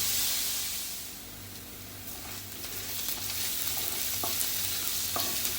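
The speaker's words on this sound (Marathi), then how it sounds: "कांदा परतला आपला एक दोन मिनटात" Chopped onion sautéing in a pan for a Maharashtrian bitter gourd bhaji, a steady, even sizzle with soft stirring scrapes, close and alone.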